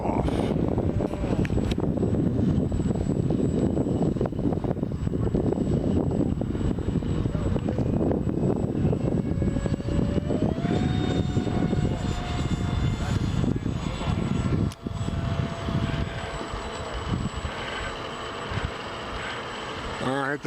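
Propeller aircraft taxiing out toward the runway at an airfield, a continuous loud engine drone with a rising propeller pitch, heavy wind noise on the microphone and a passing mechanical whine.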